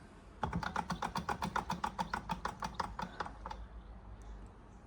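A 120-year-old George Carette hot air Stirling engine ticks with rapid, regular mechanical clicks that gradually slow and die away after a few seconds, leaving near silence.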